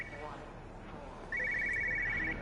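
A telephone bell rings in the video game Everybody's Gone to the Rapture, a bright trilling ring starting midway and continuing steadily, moderately loud over quiet ambience, with voices audible faintly beneath.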